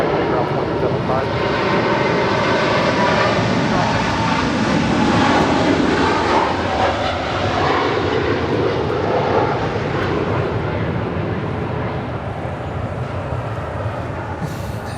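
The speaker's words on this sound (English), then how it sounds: "That is Polar Air Cargo Flight 9601 departing to Seoul on a 747-8 freighter." A Polar Air Cargo Boeing 747-8 freighter roars loudly on departure from Los Angeles International Airport, a sustained broadband jet rumble that holds steady throughout, with voices talking over it.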